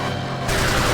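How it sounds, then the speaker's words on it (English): The watermelon seed spitter, a seed Gatling gun in Pac-Man World Rally, opens up halfway through with a sudden loud burst of rapid-fire shots that stays dense and sustained to the end. "the watermelon seed spitter, aka the seed Gatling gun"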